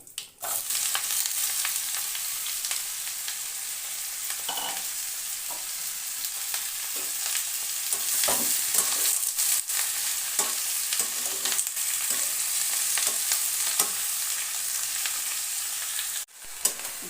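Snake gourd sizzling in hot oil in a pan for a vegetarian poppy-seed dish, a steady close hiss with frequent scraping and clattering strokes of a spatula, continuing for a long stretch.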